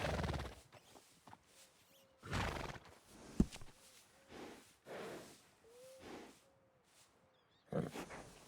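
In Red Dead Redemption 2, a horse neighs and snorts in loud bursts separated by quiet gaps, with a few hoof clops in between and no voices.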